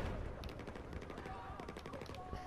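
Gunfire in the Battlefield video game, with rapid automatic bursts crackling close by in a dense stream, mixed with game ambience and faint voices.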